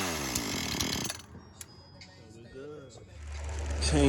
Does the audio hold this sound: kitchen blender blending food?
no